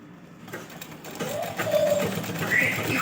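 A sewing machine stitching a blouse for a 36-inch bust, its motor whirring and rising in pitch as the stitching speeds up over a few seconds, close by with faint background noise.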